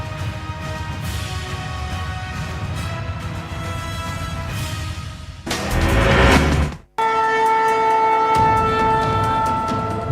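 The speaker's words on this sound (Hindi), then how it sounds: "सामने से मालगाड़ी आ रही है, लगातार हॉर्न बज रही है" Freight train approaching through a level crossing at Pakur railway station, its horn blaring in long sustained tones over rumbling wheels and loud wind noise, with a brief dropout before the steady horn resumes.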